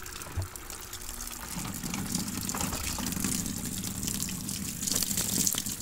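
Water poured by hand onto very dirty laundry, a continuous close gushing splash that swells and stays steady throughout, with no talking.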